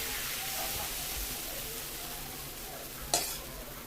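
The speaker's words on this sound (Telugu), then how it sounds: "ఒక గరిటె పిండి తీసుకొని ఇలాగ వేసుకోవాలి" Millet dosa batter ladled onto a hot pan gives a soft, even sizzling hiss, faint and steady, with a single sharp clink near the end and no speech.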